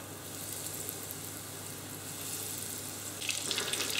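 Mushrooms frying in hot oil in a pan, a steady hissing sizzle held for several seconds that grows a little brighter toward the end, heard close with no talking.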